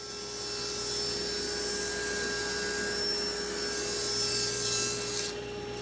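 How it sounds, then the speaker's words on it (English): A power saw rips 2-inch cedar strips for a rustic frame, producing a steady, continuous cutting whine and rush close by that holds level, then drops off abruptly near the end. "So my first step here is ripping 2-inch cedar strips."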